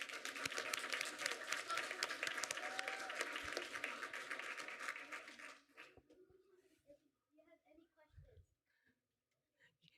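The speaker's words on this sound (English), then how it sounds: "Give yourselves a round of applause" Audience applause at a school district board of education meeting, a broad steady clapping wash for about five seconds that then stops, followed by sparse quiet room noises and faint voices.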